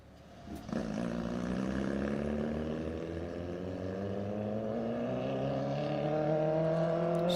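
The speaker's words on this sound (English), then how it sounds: "Sounds like a VW engine." A Volkswagen-engined H Street Roadster race car revs up loudly and holds a rising, buzzy drone, climbing steadily in pitch as it accelerates away at Bonneville, with a sharp start near the beginning.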